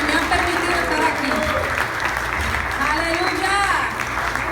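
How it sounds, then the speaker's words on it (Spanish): Church congregation applauding loudly and continuously in a worship service, a dense wash of clapping with voices and shouts mixed in throughout. "Denle ese aplauso más fuerte al Señor"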